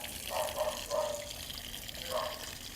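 Water flows and splashes into a drain gutter by a floor drain, a soft continuous trickle with a few gurgling bursts rising and falling, quiet and steady without speech.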